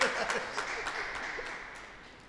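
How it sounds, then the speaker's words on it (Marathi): Audience applause at a crowded guidance event, a dense steady wash of many hands clapping that holds through and slowly fades toward the end, with no voices over it. "टाळ्या जोरदार देऊया जरा."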